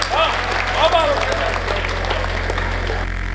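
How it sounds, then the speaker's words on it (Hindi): Audience applause at a Hindi kavi sammelan, a poetry gathering with chants to Bajrang Bali, forming a steady broadband wash of clapping. A voice rings out over it near the start, and the clapping continues evenly to the end. "जोरदार तालियां बजाइए आप लोग।"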